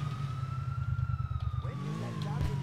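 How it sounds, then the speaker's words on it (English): Ambulance siren in the GTA IV video game, a steady wailing tone over low engine rumble and game noise for under three seconds, with a brief crash-like thud near the end. "here comes the ambulance."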